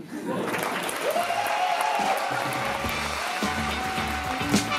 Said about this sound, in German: Applaus für die letzte Poesie